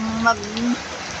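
Heavy rain falls in a steady broadband hiss that runs the whole moment, with a brief voice rising over it near the start.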